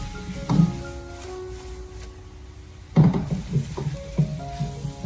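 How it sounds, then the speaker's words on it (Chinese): A spatula tosses green beans and fried eggs in a hot wok over a soft steady sizzle. A few distinct scraping strokes come close together near the middle, and no one speaks. "接着再用锅铲给它翻炒一下，把它翻炒均匀，让鸡蛋和豆角充分的融合在一起"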